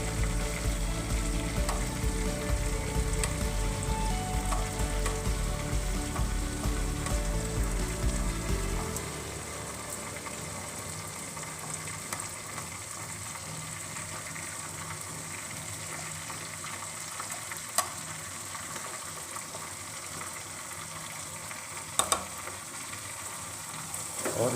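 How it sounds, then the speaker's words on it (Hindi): Tomato paste and spices fry in a pan with a dense, loud sizzle for the first several seconds, then settle into a quieter, steady crackle with occasional light clinks. "इसमें टमाटर का पेस्ट डाल दें और सारे मसाले डालें।"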